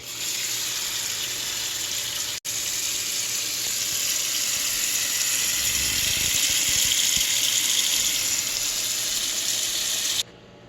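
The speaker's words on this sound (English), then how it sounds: "Now we will add fresh water." Fresh water pours steadily into a pot of soaked dry beans with a continuous hissing splash, briefly interrupted once, then cutting off near the end.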